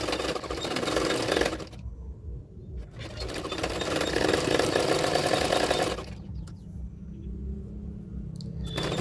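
A sewing machine stitches the belt onto a double katori blouse, running steadily in two long stretches separated by a short pause and ending in quieter handling noise.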